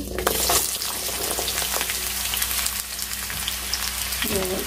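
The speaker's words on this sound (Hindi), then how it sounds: "तेल को अच्छे से गर्म होने देंगे हमारा अच्छे से गर्म हो गया अब डालेंगे इसमें सहजन की फली" Drumsticks (moringa pods) frying in hot oil for a spicy sabzi: a close, continuous crackling sizzle with a few sharper spits and a brief stir or clatter near the end, no talking.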